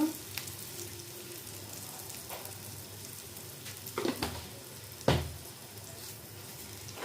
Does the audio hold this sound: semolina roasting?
yes